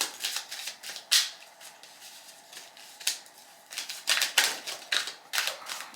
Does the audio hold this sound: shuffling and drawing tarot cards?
yes